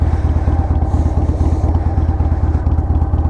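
A Harley-Davidson Sportster 883 Hugger engine running after repair at around 21,000 miles, a loud, close, steady lumpy V-twin beat with rhythmic potato-like pulses and no talk.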